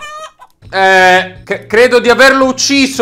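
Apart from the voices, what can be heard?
chicken clucking from a VR game mod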